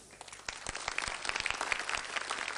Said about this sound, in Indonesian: Tepuk tangan untuk pilihan Anda